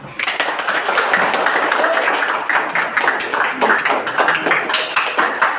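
Hands clap repeatedly during a guided relaxation exercise in a one-on-one mentoring session. Dense, busy claps run continuously and loudly, mixed with voices.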